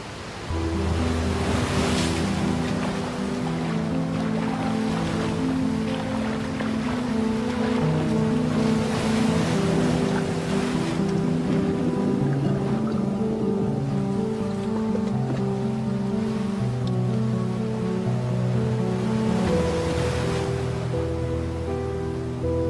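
Sea waves wash continuously against the shore in Gaza, a broad steady surf roar with sustained musical tones layered over it throughout.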